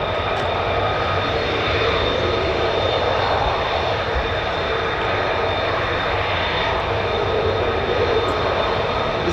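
A five-ship formation of US Air Force F-15 fighter jets passes overhead at an RAF base, a steady, loud, broad engine roar that holds without a break.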